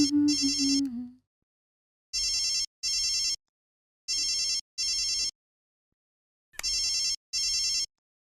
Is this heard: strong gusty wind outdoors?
no